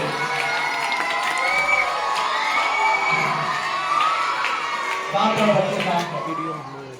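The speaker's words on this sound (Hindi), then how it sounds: "एक बार जोरदार ताली, इतनी जोरदार ताली बजाने की ताली की गूंज दूर तक जाए" Children shout and cheer loudly together as a crowd at a Reshami Public School prize distribution ceremony in Ghazipur, a dense, sustained wash of young voices that swells near the end.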